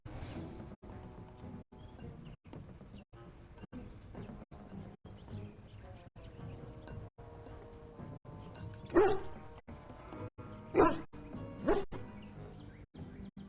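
A dog in the video game Dragon Age: Origins gives a few short, sharp barks partway through, standing out over a steady, rhythmic run of quieter game sounds.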